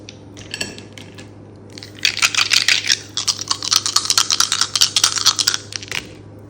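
Astrology dice rolled for a tarot reading clatter and rattle in a dense run of sharp clicks and knocks lasting several seconds, close and fairly loud, with no talking.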